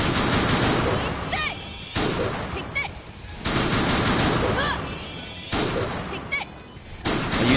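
A gun spell firing in Death end re;Quest: three loud volleys of rapid shots, each lasting over a second, separated by quieter gaps with scattered effects and speech.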